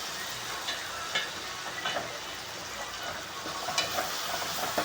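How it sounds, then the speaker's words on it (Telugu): Spring onion and turmeric frying in a pan, a dense, bright, steady sizzle close up with faint occasional stirring scrapes and no voices. "పసుపు వేసుకున్నాక మనమైతే ఇలా ఫ్రై చేసుకోవాలి."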